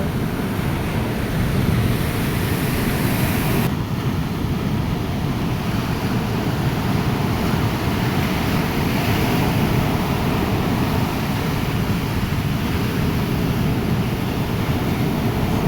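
Sea waves roll and crash onto the shore at Hafa, Oman, making a loud, continuous roar with heavy wind buffeting the microphone and no speech.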